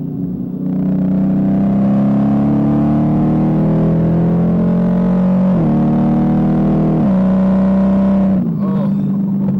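A 2018 Dodge Challenger T/A Plus roars as it accelerates hard, engine pitch climbing through gears with two sharp shift breaks, loud and close, before easing off at the end.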